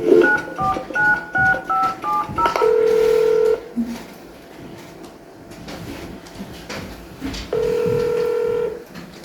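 A run of short keypad tones beeping in quick succession, followed by longer steady tones, over faint room noise and muffled background voices.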